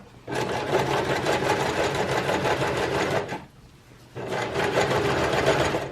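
A sewing machine stitches a zipper pillow cover with a steady, close mechanical whir. It runs for about three seconds, pauses briefly, then starts stitching again at the same even pace.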